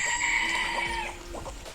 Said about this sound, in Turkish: Light Brahma cinsi tavuğu göstereceğim